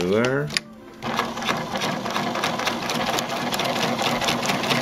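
A Pfaff 1473CD sewing machine sews thick fabric using a long stitch, its rapid mechanical rattle starting after a short bit of talk and running steadily and close to the end.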